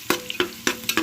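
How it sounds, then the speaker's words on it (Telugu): Vegetables for veg biryani frying over high heat in a pan with ginger-garlic paste, four quick rhythmic scrapes of a spatula over a sizzling bed, close and fairly loud, no talking. "ఇలా బాగా వేగాలన్నమాట"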